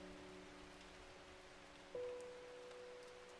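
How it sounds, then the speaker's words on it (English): Soft, steady rain patters from the video game Strange Horticulture, faint and continuous beneath a low sustained tone. "it's such a vibe with the rain sounds in the game"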